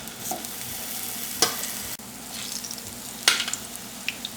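Ripe nendran banana slices fry in melted ghee in a pan, giving a steady soft sizzle with a couple of sharp clinks from a utensil, close and fairly quiet, with no talking.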